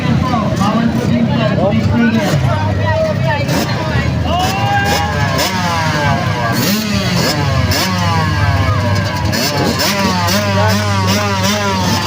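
65cc motocross motorcycles race at an invitational event in Nueva Ecija, their high-pitched engines revving and rising and falling in repeated sweeps as bikes pass, loud and constant under an announcer talking throughout.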